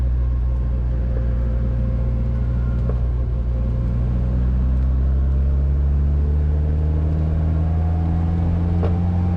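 A 1969 MG Midget two-seater with its small 4-cylinder engine accelerating, a steady loud in-cabin drone with engine pitch slowly climbing over road rumble for several seconds, no voices.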